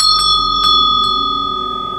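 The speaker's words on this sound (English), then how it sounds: "The bell above the diner's door gave a tired little jingle as the elderly man stepped inside." A small bell hung above a diner's door rings in three quick, bright jingles close by, its clear tones ringing on and slowly fading.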